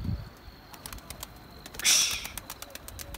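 Young Turkish tumbler pigeons make soft low coos, scattered clicks and a short rustling flurry like wing flaps nearby, while a man briefly calls out once.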